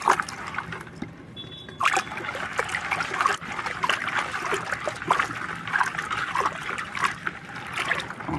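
Water splashes and trickles irregularly as pigeons are washed in a basin, with small splats and dribbles continuing close by throughout.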